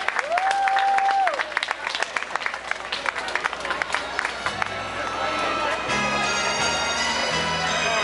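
An audience at a fashion show applauds and cheers in a large hall. Brisk clapping dominates the first half, then gives way to music and crowd murmur.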